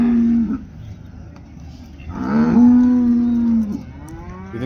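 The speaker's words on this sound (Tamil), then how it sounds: "இங்கே எருமை இருக்குது, மாடு வந்திருக்கு, நாட்டு மாடு" Cattle at an Erode livestock market, among buffalo, bulls and native cows, give a short moo and then a long, loud, drawn-out bellow close by, with soft background murmur.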